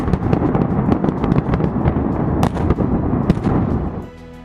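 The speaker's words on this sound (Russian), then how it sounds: "первыми в дело вступают взрывотехники" Explosive blasting in a basalt quarry, a dense barrage of sharp cracks and booms rolling together for about four seconds before cutting off, loud and close, with no talk.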